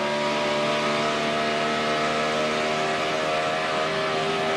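A NASCAR Sprint Cup stock car engine roars around Pocono during a 2011 race, making a loud, steady droning whine with no audible break in pitch.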